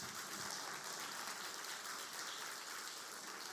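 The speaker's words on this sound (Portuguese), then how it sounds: "uma salva de palmas para esse moço aqui" Audience applause at a church gathering, a dense, even wash of clapping sustained throughout with no talk over it, fairly faint and distant.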